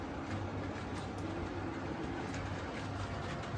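A model freight train runs backwards along its track, a steady low rumbling roll with faint wheel clatter, continuous and close, no voices.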